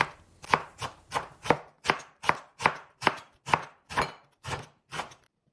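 A knife slices thinly through banana blossom on a board: about a dozen crisp, evenly spaced cuts in a steady rhythm, close and clear, with no talking.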